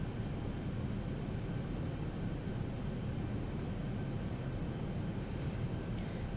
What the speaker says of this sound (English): We will increase the throttles just a little bit.